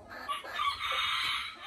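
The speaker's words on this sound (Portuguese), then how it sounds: "Olha só que galo lindo e fofo." A Belgian rooster, about two years old, crows once, a loud drawn-out call filling most of the moment, with no talking.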